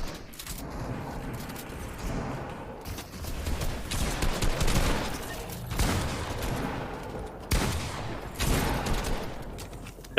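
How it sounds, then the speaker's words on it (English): Pump shotgun fire in Fortnite during a trios tournament match: several loud, sharp bursts of gunfire come in quick clusters with brief gaps between them, and no voices are heard. "Dark Z shooting his own teammate with a 200 pump."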